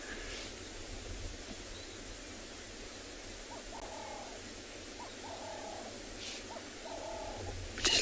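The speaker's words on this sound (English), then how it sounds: "Just listen to all the birds in the background." Birds call at sunrise in an African wildlife setting, several short repeated chirping phrases at moderate distance over a steady hiss of ambient noise, with no talking.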